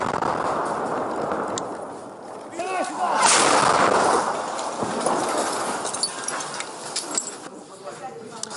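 Artillery fire in the conflict zone of eastern Ukraine, a rumbling barrage of booms and crackling blasts that swell in the middle and continue with sharp reports in a noisy, distant-sounding wash.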